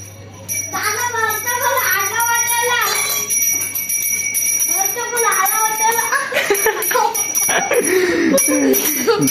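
A bicycle bell rung by an ice vendor sounds in repeated bright rings over steady background noise, with children talking and playing nearby throughout.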